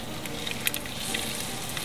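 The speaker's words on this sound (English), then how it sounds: "It's ready to brown our beautiful pork chops. We'll set those in there. You can hear them sizzle." Continuous sizzling of pork chops frying in a pan, a close, hissing crackle with a few brief sharper pops.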